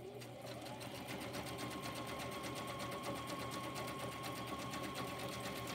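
A Brother sewing machine bought from Walmart stitches steadily with a rapid, even mechanical chatter and motor hum, close and continuous throughout.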